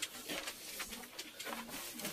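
Pigeons coo close by in soft, throaty, repeated calls.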